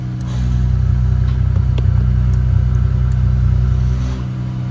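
A Yamaha MT-03 motorcycle engine, switched to Sport mode with an aftermarket exhaust diffuser fitted, idles and revs steadily close by, a continuous throbbing drone with faint clicks, no talking over it.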